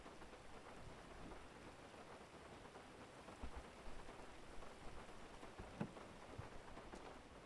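Steady rain hisses across the whole stretch in the GTA V FiveM game world, with a few soft low rumbles and scattered sharper drop impacts rising out of the even wash.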